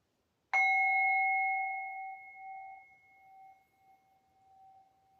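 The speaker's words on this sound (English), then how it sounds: "I'm going to do my singing bowl." A singing bowl is struck once, a clear bright tone that rings and slowly fades over several seconds with a wavering hum, alone in quiet surroundings.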